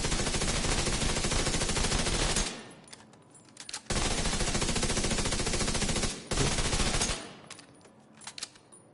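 Sustained full-auto assault rifle fire in the shooter The Division 2, two long loud bursts separated by a pause, each followed by brief trailing shots and clatter.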